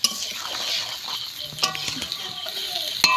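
Small lota fish being stirred with spice masala in a frying pan, a continuous close sizzle with scraping spoon strokes and a few light metallic clinks.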